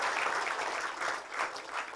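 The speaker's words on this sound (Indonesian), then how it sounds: "tepuk tangan untuk Ibu Dwi." A crowd claps steadily for a couple of seconds, a dense, even patter of applause without voices.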